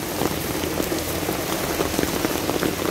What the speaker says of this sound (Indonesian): Nah, kayak gitu hujan.